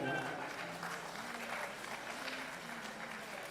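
Audience applause welcoming a poet onstage at a Bangalore mushaira, a soft, distant, steady patter of clapping from the crowd under a speaking voice.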